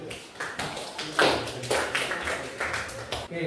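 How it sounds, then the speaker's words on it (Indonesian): Scattered clapping from a classroom of people, uneven and irregular with overlapping claps, fairly close, for a few seconds. "Tepuk tangan Bu Aisyah ya."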